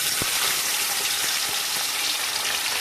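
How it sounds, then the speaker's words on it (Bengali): Fish frying in hot oil, a constant bright sizzling hiss with a few soft low pops spaced through it, close and steady. "মাছগুলো না খুব সাবধানে ভাজতে হয়"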